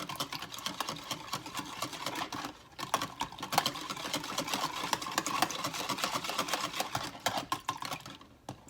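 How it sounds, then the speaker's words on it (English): An egg being whisked into milk in a bowl for a Southern fried chicken batter, a fast, steady clatter of whisk strokes against the bowl lasting throughout, close and fairly loud with no talking. "we're going to go ahead and whisk that egg in that milk."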